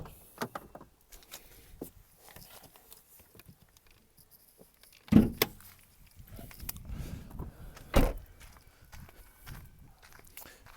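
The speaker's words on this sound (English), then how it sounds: "Let's just pop the bonnet" The bonnet of a Mercedes C200 CDI popped open, a couple of sharp metallic clunks and thumps standing out from quiet surroundings with light shuffling between them.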